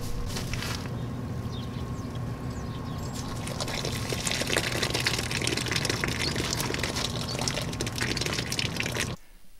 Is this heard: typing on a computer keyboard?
no